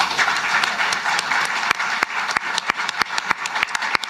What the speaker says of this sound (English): I was clapping for the Premier there.